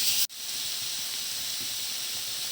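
Carrots, zucchini and shrimp hiss steadily in a hot pan, a broad close sizzle broken once by a sudden short drop near the start, then running on evenly with no voices.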